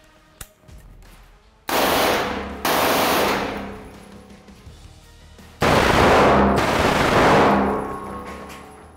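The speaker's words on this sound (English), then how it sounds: "if you want to put a lot of 9mm, at least in the general area of what you're shooting at, Micro Uzi, accept no substitutes" Bursts of full-auto fire from a Micro Uzi submachine gun shooting 9mm rounds outdoors, with a short single shot, then two long loud strings of automatic fire separated by a pause, each trailing off in echo.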